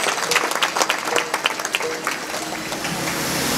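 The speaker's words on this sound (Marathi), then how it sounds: "अहो तुमच्याबद्दल टाळी वाजवा" An audience claps together at a village comedy kirtan in Dokewadi, making a dense, loud burst of applause that starts with sharp individual claps and then settles into an even, sustained wash of hands.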